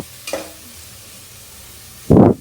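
Tomatoes frying in a pan for millet kichidi, a brief stir near the start, then a quiet gap before a loud burst of sizzling scraping at the end.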